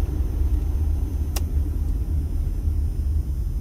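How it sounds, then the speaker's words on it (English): A car driving through ponding water on a street on the east side of Las Vegas, a steady close rumble of tyres and engine with a faint continuous wash, with one brief sharp click partway through. "as we travel through some ponding water there"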